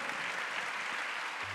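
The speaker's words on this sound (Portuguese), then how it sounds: "Peço uma grande salva de palmas para Pedro Silva." A conference audience claps steadily, a brief dense burst of applause.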